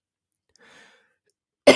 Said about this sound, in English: Sorry, I don't know why I keep coughing